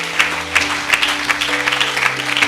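A church congregation claps to acclaim the Lord in rhythmic, evenly spaced bursts that land roughly twice a second. Steady sustained tones run underneath the fairly loud clapping.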